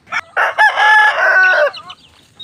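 A hen with her chicks gives a series of close, loud clucks and a drawn-out vocal call, with short gaps between the sounds.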